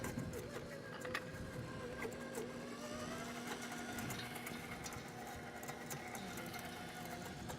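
An old electric kitchen mixer whirs steadily, mixing ingredients with a constant mechanical drone and small rattles, heard quietly and close throughout.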